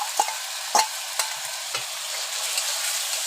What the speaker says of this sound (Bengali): মশলাটা কষানো হয়ে গিয়েছে, দেখো তেল ছেড়ে দিয়েছে। এখন দিয়ে দেবো ওই আলু ভাজাটা।